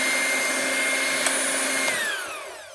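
An electric mixer beating yellow cake batter, a continuous close whirring motor drone with a steady pitch that shifts and tapers off toward the end.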